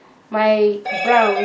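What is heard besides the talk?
mobile phone ringing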